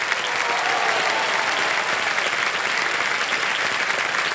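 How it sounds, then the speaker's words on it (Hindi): Sustained applause from a studio audience at a televised quiz show in India, dense and steady for several seconds at a close, even loudness with no pauses. "तालियां बजती रहे इनके लिए।"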